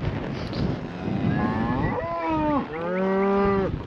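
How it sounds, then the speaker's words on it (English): A ranch cow bellows a long, loud moo close by, rising and then sustained in two drawn-out pulls, with no talking over it. "Hey, cow."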